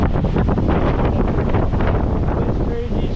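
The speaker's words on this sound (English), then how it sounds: "It's a windstorm right now." Strong windstorm wind on a mountainside at sunset roars and buffets the microphone in a constant, heavy rush with no letup.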